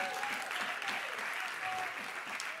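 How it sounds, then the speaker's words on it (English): A worship congregation gives a guest speaker a warm round of applause, with a full, steady wash of clapping from a large room and a faint sustained tone beneath. "Just give him a round of applause."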